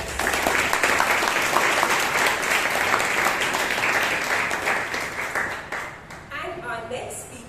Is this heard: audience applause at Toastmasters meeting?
yes